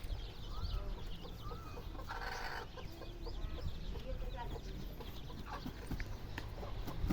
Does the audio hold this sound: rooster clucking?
yes